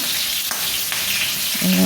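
Steady sizzling of chicken frying in a pan with little oil, a dense crackle throughout with a faint clink near the end.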